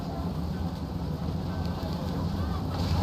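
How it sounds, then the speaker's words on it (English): Heavy rain pours down on a crude tent in the video game What Remains of Edith Finch, a dense, steady wash of noise with a low rumble beneath it. "The rain came down in buckets then"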